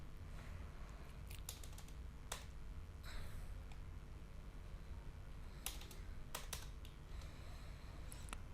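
Numbers typed on a computer keyboard into a spreadsheet, with scattered, irregular key clicks and a few sharper taps over a steady low room hum, close and moderately quiet, no voices.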